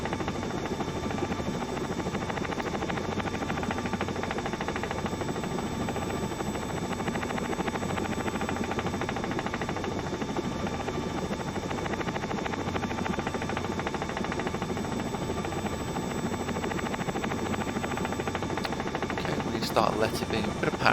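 A helicopter's steady rotor and engine drone fills the cabin continuously during landing practice toward a runway, with an instructor talking over it throughout.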